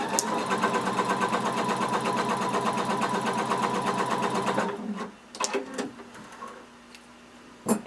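A sewing machine stitches fabric in a steady, fast mechanical chatter for about four and a half seconds, then stops, leaving a few soft clicks and handling sounds.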